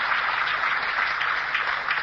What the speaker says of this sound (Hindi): अरे जोरदार तालियां अपने लिए।